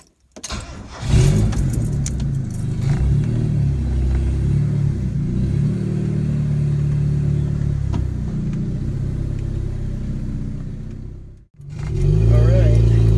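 A turbocharged car with a newly welded, repaired downpipe gives a loud, close engine rumble that holds steady. The sound dips sharply near the end, then returns strongly.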